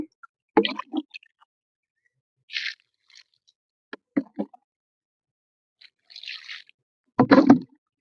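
Liquid fertilizer and rice-washing water are poured onto potted flower plants in short, separate bursts: quiet splashes, trickles and drips spaced apart by silence, close by, with no talking.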